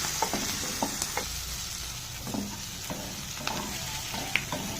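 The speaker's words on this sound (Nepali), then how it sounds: "अब यो जिन्जर गार्लिक सबै हालेर म्यारिनेट फ्राई गर्दैछु" Meat marinated with ginger and garlic fries steadily in a pan, a soft continuous sizzle with occasional light clinks of stirring, fairly quiet and without talk.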